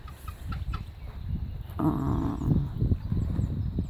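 Hens on a rural Slovak property cluck in short, scattered bursts at close range, mixed with a fuller stretch of farmyard noise, with no talk over them.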